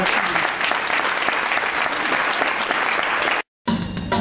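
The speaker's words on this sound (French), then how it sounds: "On peut l'applaudir très fort." A hall audience at a Gospel Kids choir event gives loud, sustained applause with dense clapping throughout, broken by a brief cut before the clapping resumes.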